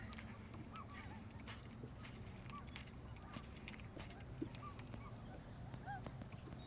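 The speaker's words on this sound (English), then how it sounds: "Sounds like snow geese to me." Faint honking of waterfowl, taken for snow geese, scattered calls heard far off over a steady low rumble of wind and water on a lake during bass fishing.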